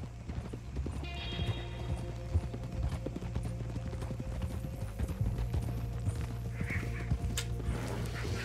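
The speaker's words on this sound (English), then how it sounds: "I need to get a horse, man." Horse hooves clip-clop steadily in Red Dead Redemption II, a regular close rhythm over a low droning background with faint mechanical creaks and a brief whinny-like sound, with no talking.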